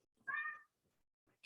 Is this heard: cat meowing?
yes